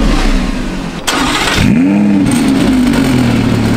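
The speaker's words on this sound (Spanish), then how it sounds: "Vamos a tocar el botón y arrancarlo." An Audi R8 V10 Plus fires up: a brief starter whir is followed by a loud, close engine catch that swells into a rising rev before settling into a strong, steady idle.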